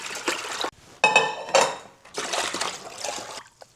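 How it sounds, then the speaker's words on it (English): Cooled, concentrated pastrami brine pours and splashes into a container in a few bursts separated by short pauses, with clinks of pot or utensils and no talking. "What we're gonna be doing now is transferring all of that concentrated brine"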